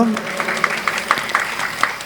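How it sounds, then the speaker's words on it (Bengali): An audience at an awards gala claps for a poet, a dense patter of hands with some louder claps standing out. The clapping fills the whole stretch, moderately close, and speech is mixed in. "একটা জোরে হাততালি কৌস্তবের জন্য"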